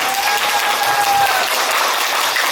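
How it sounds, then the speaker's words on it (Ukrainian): Guests at a Ukrainian wedding reception burst into loud, dense applause, a steady close wash of clapping hands lasting the whole moment, with no talk over it. "Давайте їм похлопаємо."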